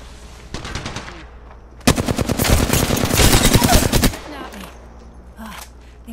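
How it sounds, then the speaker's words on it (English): Rapid automatic gunfire from Apex Legends, Season 8, erupts loudly for about two seconds in a dense burst, with fainter scattered shots before and after in the game's background. "I'm being shot at."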